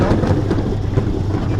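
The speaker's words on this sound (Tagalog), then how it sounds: "Ito, inaabot na kami ng ulan." Heavy rain with thunder starting on a trip to Abu Dhabi, a loud, steady wash of downpour and low rumble filling the whole moment.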